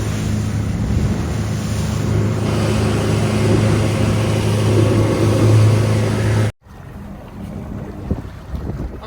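A small fishing boat motors along the coast of Botany Bay, a steady engine drone mixed with wind buffeting and water rush, close and loud, before cutting abruptly to quieter wind and water.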